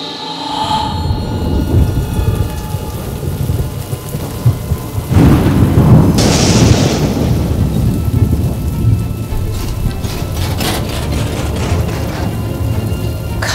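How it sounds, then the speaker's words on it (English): Steady heavy rain pours on surfaces while thunder rumbles and cracks through a storm, a loud peal building around the middle before the downpour continues alone. "it's been raining. It's quite a wet track down there."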